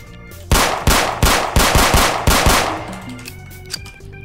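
Rapid bursts of automatic gunfire in a Roblox police-and-robbers game, about eight loud, sharp shots in a steady rhythm with ringing decay, fading into quieter game sounds.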